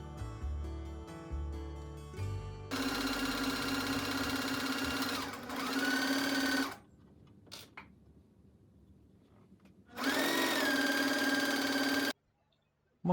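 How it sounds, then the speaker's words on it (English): A domestic sewing machine stitches a Vogue 1862 gathered dress in two long steady runs, close and loud, with quiet handling and pauses between the runs. "More exciting long distance sewing going on."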